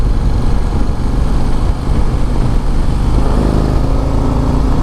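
A 2024 Harley-Davidson CVO Road Glide motorcycle is ridden at speed, its engine a constant loud roar blended with heavy wind rush, with no talking.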